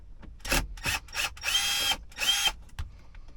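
A power drill works on the screen bolts of a Mercedes-Benz SLK, close and loud, with short whirring bursts, two longer steady runs and clicks in between.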